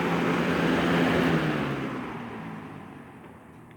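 A Lakewood 223 third-generation box fan winds down from speed, a broad whooshing drone with a low motor hum that slowly fades and softens over a few seconds.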